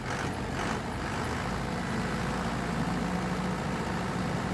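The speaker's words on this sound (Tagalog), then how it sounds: "Okay na ang andar sa generator, ang RPM niya sakto na dol." A Powerman generator engine runs at a steady pace, its even mechanical drone close and loud from start to finish with no pauses or changes.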